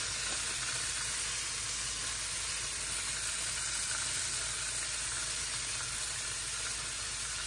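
Scallops frying in olive oil give a steady, even sizzle close by, a continuous crackling hiss with no talk over it.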